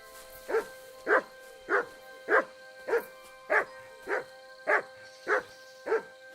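A dog barks steadily in Kingdom Come: Deliverance II, about ten evenly spaced single barks, clear and moderately loud over a quiet backdrop.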